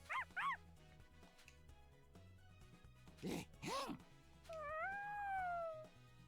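A dog in the video game Dragon Ball Z: Kakarot gives short barks and yips after being fed dino and gold deer meat, then a long whimpering whine, all under steady game music.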